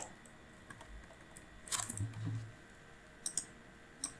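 Scattered keystrokes and clicks on a computer keyboard, a few quick bursts separated by pauses, soft and close in a quiet room.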